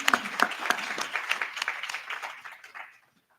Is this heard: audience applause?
yes